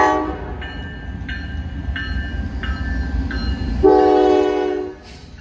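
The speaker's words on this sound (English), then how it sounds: "it ended up being a Norfolk Southern light power move with a rare Norfolk Southern -9 trailing second" A Norfolk Southern light power locomotive move, with a -9 unit trailing second, passes close by, sounding a series of loud repeated horn blasts over a steady rumble of engines and wheels, ending in a sharper horn chord.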